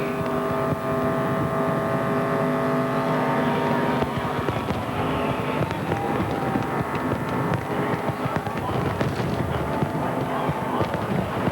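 Jeff Gordon's NASCAR Nextel Cup race car does a celebratory burnout on track, its engine droning loud and continuous with tire roar and crowd noise, commentary faintly underneath.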